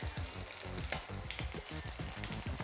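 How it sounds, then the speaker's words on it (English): Leftover turkey sizzles steadily in a hot pan, a continuous crackling and spitting sound up close with no voices. "Already starting to sizzle."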